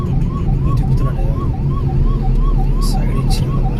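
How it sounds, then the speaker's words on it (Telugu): An ambulance siren wailing in a regular rising-and-falling cycle about twice a second, loud and near over a constant low rumble of road traffic, with a couple of brief horn-like bursts later on. "అంబులెన్స్కి దారి ఇవ్వాలి ఎప్పుడైనా సరే."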